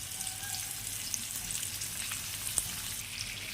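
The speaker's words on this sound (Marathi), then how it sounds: "आता मी हे पापलेट फ्राय करत ठेवत आहे" Coated pomfret fish frying in hot oil with garlic cloves, giving a steady, even crackling sizzle with a few sharper pops throughout.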